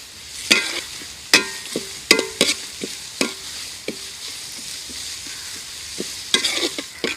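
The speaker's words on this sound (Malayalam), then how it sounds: "ഈ വെളുത്തുള്ളിയും നമ്മളെ വറ്റൽമുളകും കൂടി ഇട്ടുകൊടുക്കുക. ഇതങ്ങനെ ഇളക്കന്നെ." Garlic and dried red chillies fry and get stirred in a pan for beef chukka, with sharp scraping strokes of a spoon at irregular intervals over a steady soft sizzle, close and fairly loud, with no talking.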